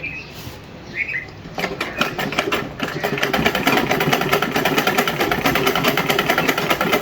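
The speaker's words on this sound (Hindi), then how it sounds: "ये खुद ही खुद अपना ये सीधी सिलाई लगती जाएगी और ये उसके ऊपर सिलाई लगाता जाएगा" A sewing machine stitches over a straight seam. After a quieter opening it starts up with a fast, rattling, buzzing run of needle strokes that continues loud and close to the end.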